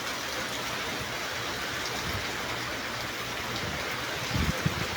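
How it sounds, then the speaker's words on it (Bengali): Rain pours steadily outside a market shop, a dense even hiss at moderate loudness, with a couple of soft thumps near the end. "আপনাদেরকে বৃষ্টি দেখাইতেছি। দেখেন কি বৃষ্টি।"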